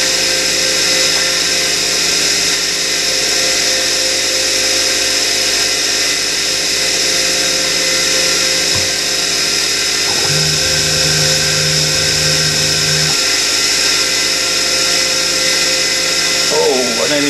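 Drilling aluminium on a Chester DB10 lathe: a steady high motor whine with a low-pitched cutting hum that rises partway through for a few seconds, then drops back, no talk over it.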